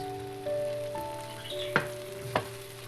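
Ground beef with boiled potatoes frying in a pan over a high flame, a steady soft sizzle under tonal hums, with two sharp clinks of stirring near the end.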